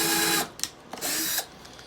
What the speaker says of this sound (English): you don't want to drill too many holes and then they not line up when you go back to put them together.